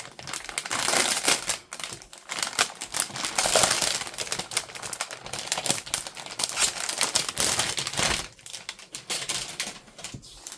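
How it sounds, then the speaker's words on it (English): Close, loud crinkling of plastic packaging as scrapbooking mystery box items are slid out, in irregular rustling bursts with crisp crackles throughout. "You're going to hear some crinkling. So if you don't like that, turn it down for just a moment while I slide things out of the package."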